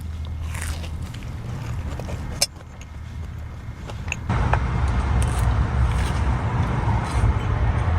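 A car pulls up near a campsite, with a steady engine rumble growing louder and closer, alongside close crunching and scraping sounds of someone eating.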